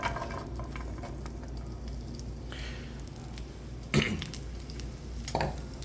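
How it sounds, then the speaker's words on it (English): Green beans sizzle in a hot pan of olive oil, giving a steady dense frying hiss with a few louder scrapes and taps of stirring, close and without talk. "Got some olive oil going in our pan already, nice and hot pan. And we get our green beans in."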